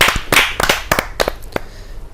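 Audience at a kavi sammelan poetry gathering giving applause to welcome a poet, a handful of sharp, loud, separate claps spaced irregularly, fairly close, with no talk.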